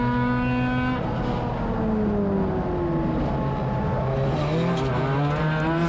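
Spec-Mazda race cars on the back straight of Suika Circuit in a racing video game, several engines droning and shifting pitch together as they jostle close, steady and loud throughout.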